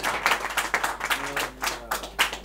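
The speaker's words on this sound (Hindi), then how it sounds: "भरपूर तालियों से इस्तकबाल कीजिए।" An audience at a mushaira poetry gathering at Fatima Life Care Hospital claps to welcome poet Syed Adeeb, a scattered, uneven patter of hands in loose bursts, moderately close.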